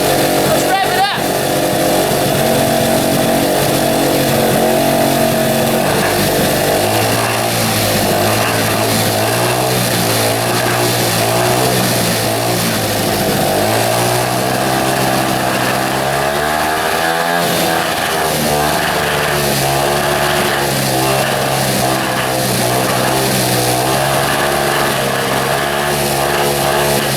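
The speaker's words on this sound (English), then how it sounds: "Let's rev it up." Engine of a junkyard Honda XR80 dirt bike revs loud and close, its rough, buzzy note rising and falling through repeated throttle blips over a steady idle, with a brief dip midway.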